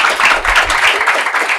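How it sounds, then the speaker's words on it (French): A crowd applauds the performer Black Dove at a live show, a steady wash of clapping that holds evenly for under two seconds, close and fairly loud, with no voice over it. "Applaudissez pour elle."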